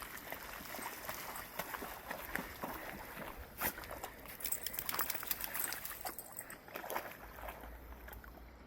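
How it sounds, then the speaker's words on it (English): Rushing river water flows steadily and loudly up close, a dense continuous wash with small splashes throughout. "That water is flowing pretty quickly."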